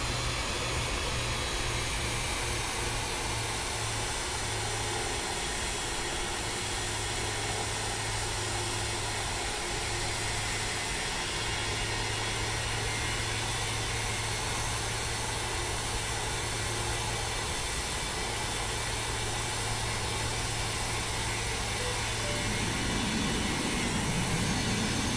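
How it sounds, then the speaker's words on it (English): Sustained broadband jet roar of a fighter jet passing overhead in Farming Simulator 20, a loud steady rushing drone with a low hum running throughout and swelling near the end, with no talk. "I'm gonna assume a fighter jet right now"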